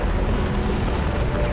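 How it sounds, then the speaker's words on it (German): A heavy, sustained rumbling blast from the video game Mass Effect 2, loud and broadband with a deep low-end roar that holds steady across the moment without a voice over it. "Könntest du bitte explodieren?"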